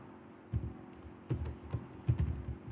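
Typing on a computer keyboard, a few soft, close keystrokes spaced irregularly over a steady low background hum, no speech.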